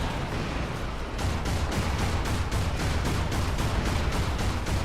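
Loud, continuous barrage in a video game of rockets launched and bursting in quick succession, a steady rumbling roar with rhythmic thumps layered over it and no pauses.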